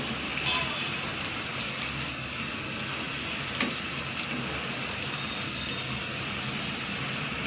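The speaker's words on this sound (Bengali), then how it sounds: "ঝড় বৃষ্টি তো লেগেই আছে" Steady rain pours during a Kalbaishakhi (Nor'wester) storm, a continuous broad hiss that holds evenly throughout, with one brief sharp tick near the middle.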